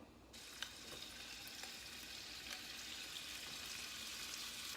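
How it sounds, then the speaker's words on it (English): Steady crackling sizzle of beef steak frying in hot oil, close and continuous, building slightly louder toward the end. "You do want the steak to kind of sizzle when it hits it."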